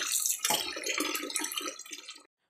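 Tap water runs steadily over a large fish being cleaned, a close splashing gush that cuts off abruptly near the end.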